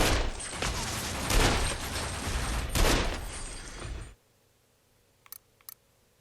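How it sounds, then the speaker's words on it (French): Hand cannon firing in the video game Sunset Overdrive: a dense, loud burst of blasting gunfire for about four seconds, cutting off abruptly, then near silence with a couple of faint clicks. "Avec ce canon à main, offre un aller simple pour l'enfer à tes ennemis."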